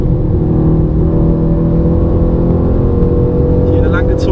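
Mercedes-AMG C63 S Coupé, 2019, driving hard on a race track, a loud steady engine drone with a whirring rise near the end, heard from inside the car.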